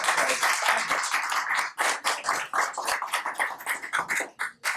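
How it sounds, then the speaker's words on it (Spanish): Audience applause welcoming a speaker named Ricardo to the stage at a talk, a dense, steady patter of many hands clapping close by for nearly five seconds, thinning briefly near the end. "con un aplauso reciban a Ricardo, por favor"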